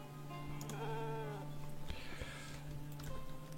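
Cows on a farm in the zombie survival game Project Zomboid give a couple of drawn-out, wavering bleat-like moos over a steady low in-game hum, with a few soft clunks in the background.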